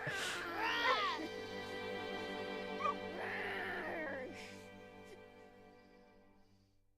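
A small dog named Bahamut in the video game Final Fantasy XVI gives a few close whimpers and yips over steady background music that fades out toward the end.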